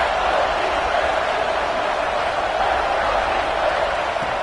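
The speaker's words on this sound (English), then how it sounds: "The crowd really making some noise now, trying to help out this defense to get this stop near the goal line." A college football stadium crowd roars steadily near the goal line, a dense wash of cheering and noise that holds loud and continuous throughout, with a commentator's voice faintly beneath.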